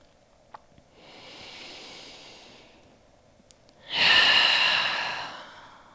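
Slow, conscious yoga breathing: a soft, drawn-out inhale followed by a louder, airy exhale that gradually fades, close and alone in a quiet room.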